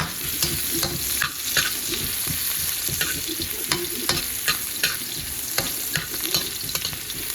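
Chicken and ginger stirred in a pot for tinolang manok, with a steady close sizzle and irregular metallic scrapes and clicks of the utensil against the pot, fairly loud and without talk.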